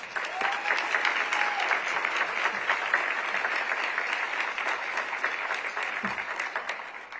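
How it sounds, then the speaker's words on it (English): A roomful of people applauds board members of an Emergency Communications District at an annual awards ceremony, producing steady, dense clapping that holds evenly for about seven seconds and tapers slightly at the end. "if we could do another round of applause for our Emergency Communications District Board members"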